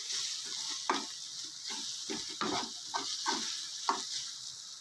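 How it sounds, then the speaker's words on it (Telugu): Chili powder is being stirred into a sizzling Andhra-style fish curry base, with soft rhythmic scraping strokes over a constant frying hiss, close up and fairly quiet, no voices. "ఈ కారం మొత్తం దాంట్లో కలిపిన తర్వాత దీంట్లోకి చేప ముక్కలను యాడ్ చేద్దాం"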